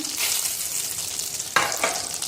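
Butter sizzling in a hot pan for a cumin tempering over rice, a steady crackling hiss with a brief louder burst of spitting near the end, close and with no talk.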